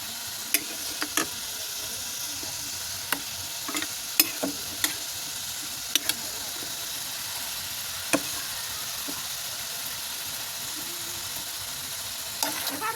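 Meat stir-frying (kosha) in a pan with a steady low sizzle, broken by scattered spatula scrapes and taps against the pan, close by with no one talking.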